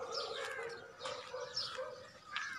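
Pigeons coo from a rooftop in several soft, rolling calls spaced a second or so apart, fairly quiet and close, with faint chirps and a brief flutter of wings between them.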